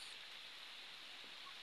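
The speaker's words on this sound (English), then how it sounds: "Look at that sun and that rain." Steady rain falls in a bamboo plantation in Africa, a soft, even hiss of drops that holds constant throughout with no voices over it.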